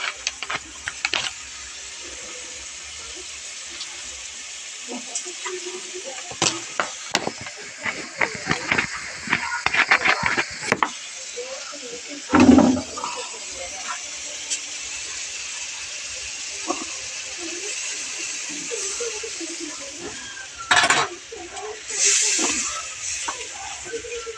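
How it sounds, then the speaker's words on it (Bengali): Spice masala fries and is stirred in a pan: a steady hiss with intermittent scraping clicks and a few louder bursts, and a voice is faintly heard at times. "সব রকম মশলা দিয়ে কষে নেবো আগে একটুখানি মশলাটা"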